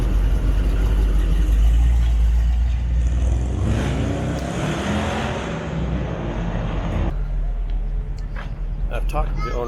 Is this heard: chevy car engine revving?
yes